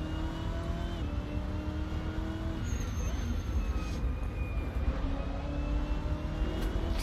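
Race car engines in the racing game Assetto Corsa, a sustained droning whine with rising and falling pitch as cars accelerate and shift, several engines overlapping at moderate loudness.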